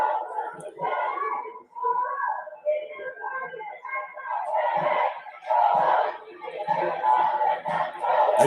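A large protest crowd at night in Brooklyn Center, Minnesota, chants and shouts in unison, with voices rising and falling in a steady, loud, continuous roar of many people.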